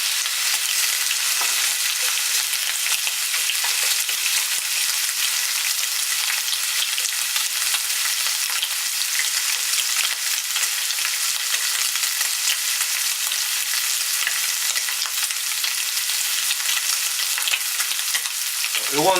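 Bacon sizzling and frying in a pan with garlic, a loud, continuous close crackle and hiss of hot fat holding steady throughout, with no talk over it.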